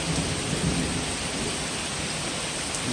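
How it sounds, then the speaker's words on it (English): Heavy winter rain pours steadily at an outdoor campsite in Hyner View State Park while low thunder rumbles underneath, a dense, continuous wash with no talking. "Raining and thundering and lightning."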